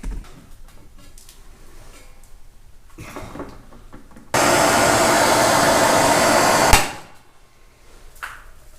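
A MAPP gas torch heats a steel and iron steering knuckle clamped in a vise, giving a loud, steady roaring hiss for a few seconds that cuts off abruptly, with quieter workshop handling sounds before and after.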